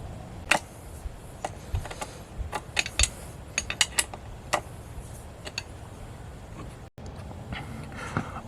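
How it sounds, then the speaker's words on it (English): A size 13 wrench turns a bolt on the water pump of a Mercury 20hp outboard, giving quiet, scattered metallic ticks and clicks at an uneven pace, with no talking. "take a size 13 wrench and start screwing it in"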